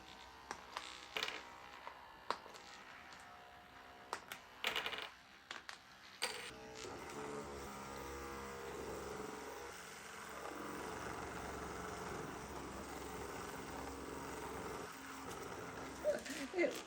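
A homemade robot draws on paper with uncapped markers. It starts with a few sharp clicks and taps, then settles into a steady, low motor hum that whirs on close by. A voice speaks faintly at times.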